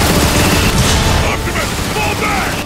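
Rapid gunfire rattles through a battle in Transformers: Fall of Cybertron, a dense, loud barrage of overlapping shots and blasts that keeps going for the whole stretch.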